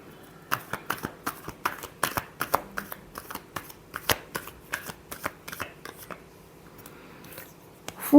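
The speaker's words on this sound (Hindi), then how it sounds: "Last shuffle." Tarot cards shuffled by hand in a close, quiet room, a rapid run of crisp riffling taps and flutters with short pauses between bursts, ending on a louder thump.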